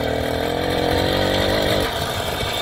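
A small motorized bicycle engine on a women's Poty bike runs steadily after being bump-started by releasing the clutch, a loud, continuous buzzing idle close by that dips slightly near the end.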